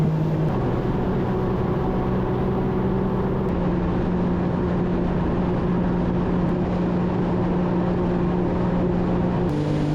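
WaveRunner personal watercraft cruising on a lake, a loud steady engine drone with a constant low hum and rushing water, unbroken for the full length and close to the rider.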